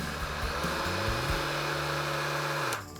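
An LRH5024V battery pole chainsaw idling on its Eco speed setting gives a steady, even motor whine with faint shifting overtones, then winds down abruptly just before the end.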